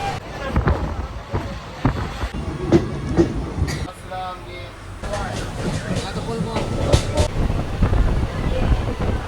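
A train running on rails, rumbling and rattling with rhythmic clacks and jolts, heard from on board, with people talking throughout over the rolling noise.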